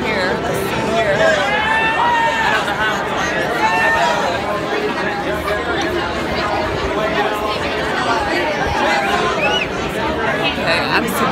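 A thick, steady babble of crowd chatter fills the grounds at the 142nd Kentucky Derby in May 2016, with many voices close and distant blending into continuous hubbub.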